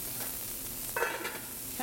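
Mussels cooking in a pan with a splash of clam juice, a soft steady sizzle with a brief louder hiss and bubbling burst midway.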